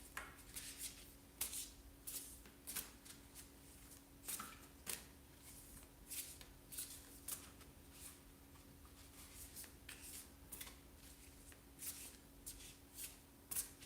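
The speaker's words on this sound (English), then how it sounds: "I'm tossing the cards, and whichever card gonna appear in the center of the deck," Tarot cards are shuffled by hand in a quick, uneven run of soft riffling flicks and taps. The sound is close and quiet, with no talking.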